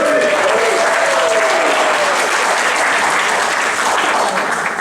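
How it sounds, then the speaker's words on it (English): A theatre audience at an evening talk at the Kino-Teatr in St Leonards breaks into loud, sustained applause with a whistle or whoop near the start, clapping evenly throughout. "can we please give a huge bravado cheer to our final bravada of the evening, Donald Clark"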